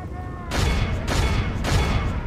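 Units open fire in a battle in the strategy game Third Age Total War, with loud bursts of massed gunfire-like volleys arriving in three repeated waves, each lasting about half a second or more.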